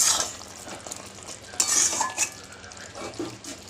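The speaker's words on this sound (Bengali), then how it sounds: "এবার আমি আবার নেড়ে দেবো।" Chicken cooking with roasted mango in a pot, a spoon scraping and clinking against the metal as the food is stirred, with a soft simmering sizzle in between the scrapes.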